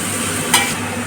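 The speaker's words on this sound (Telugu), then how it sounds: "వీటిని బాగా వేయించుకోవాలి." Green chillies and capsicum fry in a pan for chilli chicken, giving a short, steady sizzle with a brief stirring scrape in the middle and no voices.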